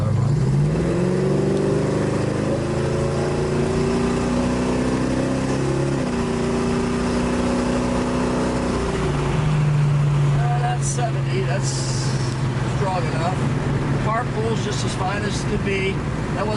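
A 1972 Plymouth Duster Shamrock Special pulling away and accelerating, the engine note climbing through the gears with audible shifts from second into third, loud and close, with people talking near the end.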